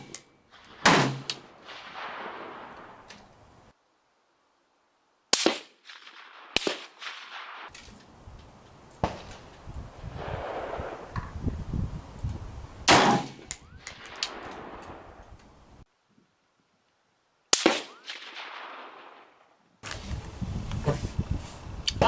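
Swiss K31 rifle fired at a rock outdoors: several loud, sharp reports spaced seconds apart, each followed by a short echoing decay. Quieter rustling and handling noise fill the gaps between shots.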